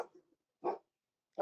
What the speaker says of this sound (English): sorry for my dog here, but Lucy.